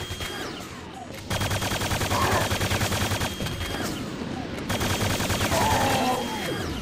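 Hyper Blaster in Quake 2 firing continuous rapid bursts of energy shots, loud and close, a dense steady stream broken by a short pause.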